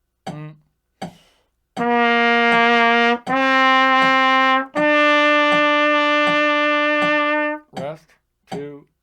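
Trumpet playing a slow scale exercise in half and whole notes at a steady tempo of 80: a short count-in of spoken beats, then three long sustained tones, each held for about a second to three seconds, loud and close, ending with more counting.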